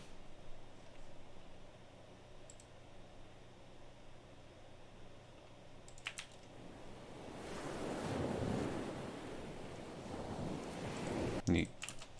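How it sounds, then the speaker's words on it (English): Ocean surf with waves washing in, quiet and windy at first and then swelling into a louder rush of breaking water in the second half, with a few faint clicks and taps. "ocean sound effect."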